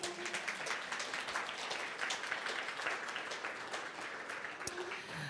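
An audience applauds steadily at a university talk on environmental justice and Indigenous law, a dense, even wash of many hands clapping at moderate distance that holds for several seconds without a break.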